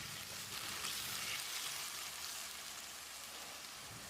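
Tomato paste frying and being stirred into a chicken gravy, a steady close sizzle with soft bubbling crackle running evenly throughout, no voices.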